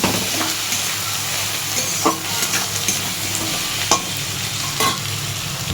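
Spices with salt, coriander and cumin powder fry in hot oil under a steady close sizzle, punctuated by a few sharp spatula scrapes against the pan, no talking.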